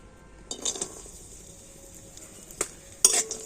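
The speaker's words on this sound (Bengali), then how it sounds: "এই ঘিয়ের মধ্যে দিয়ে দেব কাজু আর কিশমিশ" Cashews and raisins drop into hot ghee in a pan, giving a few sharp clinks and short bursts of sizzle and stirring against a quiet background.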